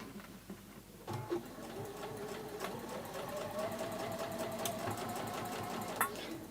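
A sewing machine stitches continuously at a steady, rapid pace close by, its needle clatter and motor hum even throughout after a brief quieter start, with light tapping noises at the edges.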